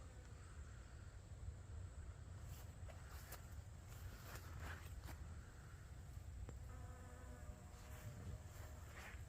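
Honeybee buzzing around a citrus tree outdoors, a faint, steady insect hum under light wind noise, with a few brief nearer buzzes passing close.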